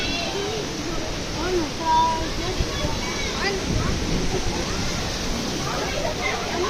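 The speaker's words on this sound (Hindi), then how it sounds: "ये चिलास के करीब बाबूसर टाप की तरफ से आते हुए एक चश्मा है, इसमें हम नहाए हैं। बहुत ही ठंडा पानी है" Cold mountain spring water near Babusar Top, close to Chilas, rushes and splashes in a steady, broad roar close by. Faint voices are mixed in.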